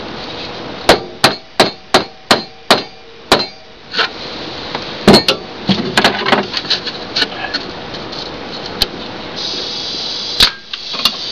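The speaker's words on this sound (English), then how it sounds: "I like these hammers here. They've got the nylon head on the one side and the rubber on the other, hard rubber." Sharp, close hammer taps on wood from a mallet with a nylon face on one side and a hard rubber face on the other, several evenly spaced knocks at first, then scattered lighter taps and shuffling as the piece is set for a shelf.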